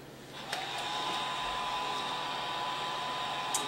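A heat tool runs steadily, blowing warm air to melt encaustic wax onto a picture, a continuous close whoosh with a faint steady whine, a couple of small clicks at start and end.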